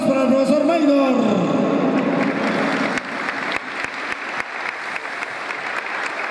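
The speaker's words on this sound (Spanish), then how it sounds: "Aplausos" Audience applause at a municipal sports board welcome event in Patzún, sustained and loud, with a voice speaking over the opening second before the clapping continues alone.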